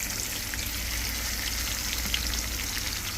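Onions sizzle in a pan in a steady, crackling hiss that holds an even level throughout, close and moderately loud.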